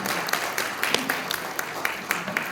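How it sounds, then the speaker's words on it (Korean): Conference audience at an ITS society autumn meeting opening ceremony applauds, a moderate wash of clapping with distinct individual claps standing out, fairly close and sustained throughout. "여러분 경의를 표현하셔서 박수 한번 큰 박수 일어나주세요."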